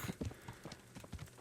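Horse hooves clip-clop in a steady, close rhythm of soft thuds as a horse is ridden in the medieval game Kingdom Come: Deliverance, with no voices over them.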